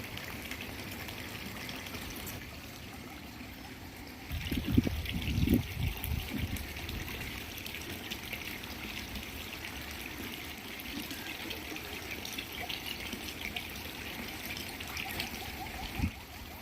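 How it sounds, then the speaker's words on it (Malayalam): Water running and falling over rocks at a rocky outdoor site in Madavoor near Venjaramoodu, Kerala, a steady trickling wash throughout, with a louder splashing burst a few seconds in. "ഇവിടെ വെള്ളം വന്ന് വീഴുന്ന സ്ഥലം കേട്ടോ"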